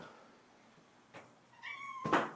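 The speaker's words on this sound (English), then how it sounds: "She's sitting at the door meowing at me" A cat gives a short meow near the end, preceded by a soft bump or creak, in a quiet room.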